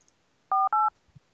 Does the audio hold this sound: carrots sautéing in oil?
no